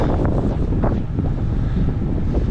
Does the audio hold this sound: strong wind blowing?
yes